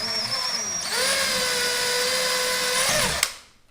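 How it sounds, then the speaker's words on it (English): A power drill bores a pilot hole through half-inch drywall: a brief whine, then a steady, loud motor drone for a couple of seconds that cuts off sharply with a click and fades. "drill through"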